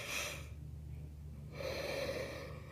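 A person yawns in a long, breathy exhale, a tired intake and release of breath lasting a couple of seconds, close and fairly quiet with no speech.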